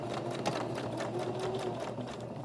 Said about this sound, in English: I'm going to stitch a little bit and then back stitch to secure it.